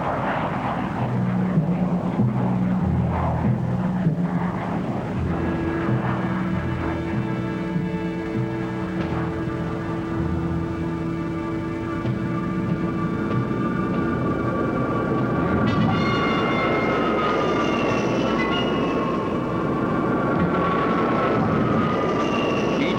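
Military jet aircraft of Tactical Air Command on alert during the Cuban crisis, a steady loud engine roar and whine throughout with rising turbine tones toward the end, no talk.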